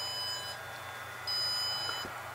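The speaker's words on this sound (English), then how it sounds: "After it beeped, beeped, beeped, it then did this big beep for about 5 seconds" Two electronic beeps from WalkSnail Avatar FPV goggles during a firmware upgrade: a high tone of about half a second, a pause, then a second slightly louder tone of similar length, over a quiet hum.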